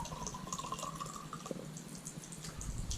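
Water trickling and dripping at a pretty village spot in North Macedonia, a steady close splashing with small drips over a low background hum, no voices.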